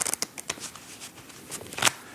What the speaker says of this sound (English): I'll give it a second shuffle as well